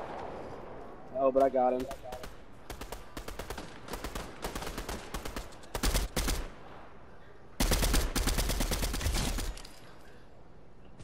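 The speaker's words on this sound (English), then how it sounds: "Somebody shooting?" Gunfire in the Fortnite video game: scattered single shots, then rapid automatic bursts, loudest in a long sustained volley near the end, with a person speaking briefly over it.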